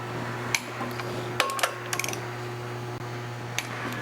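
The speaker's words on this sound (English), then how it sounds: "we're going to use a torque wrench and we'll take it down in 2 steps" A torque wrench tightens the clutch bolts on a 1997 Dodge Ram with a 5.9L Cummins and NV4500 five-speed, giving scattered sharp metallic clicks and short ratcheting bursts over a low, steady hum.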